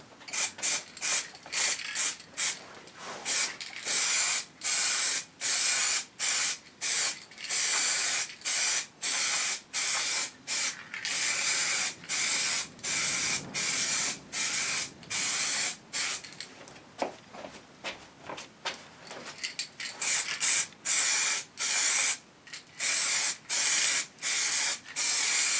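Heat shields for a Triumph Scrambler get a heavy wet coat of spray paint in a garage. Loud, close hissing bursts from the aerosol repeat in quick regular pulses, separated by brief gaps, with no talking.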